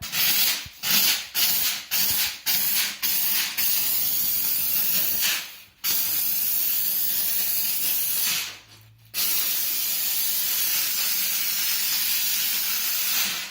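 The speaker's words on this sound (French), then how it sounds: "je vais positionner ma brosse légèrement sur le côté. J'envoie la vapeur." Vapodil steam cleaner blasting steam through a brush onto tile grout lines: a steady, loud hiss broken by a series of short bursts at the start, then long continuous jets with a brief cut-off near the end.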